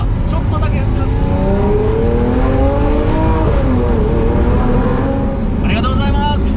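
Lamborghini Sian Roadster pulling away and accelerating gently, its engine note rising in pitch, loud and close from inside the car, with voices talking over it.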